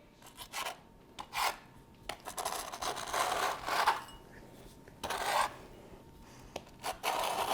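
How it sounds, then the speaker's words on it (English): A knife scrapes crumbs off a cutting board into a bowl in a home kitchen, making a series of quiet, irregular rasping strokes with short pauses between them. "get our knife, and just scrape those into the bowl"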